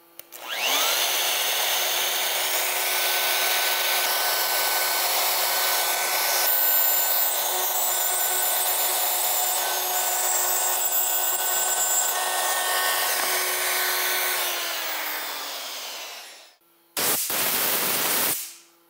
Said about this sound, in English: All right, I think we're ready to cut a bow tie.